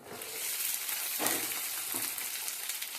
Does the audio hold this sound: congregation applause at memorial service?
no